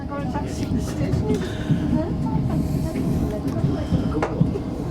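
A train rumbles along with a steady low roar and hiss of the carriage, and voices murmur faintly beneath the noise.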